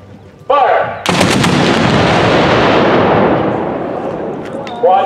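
A Civil War cannon fires at an N-SSA mortar and cannon artillery match, with a voice calling out a command just before one huge, close blast whose roar rolls and decays slowly over several seconds, followed by another shout.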